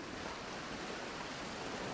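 Wind howling across the windy, cold far territories in The Long Dark, a dense, continuous rushing roar with no breaks, heard alone.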